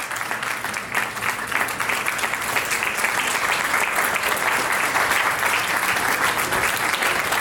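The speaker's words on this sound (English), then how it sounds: "Please give her a big round of applause and a standing ovation." A book launch audience gives sustained applause, a continuous loud wash of clapping that holds steady and builds slightly, with a faint crowd murmur beneath.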